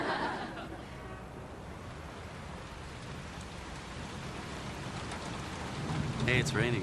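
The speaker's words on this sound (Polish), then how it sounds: "Pada." Steady rain hisses softly throughout, with faint voices rising briefly near the end.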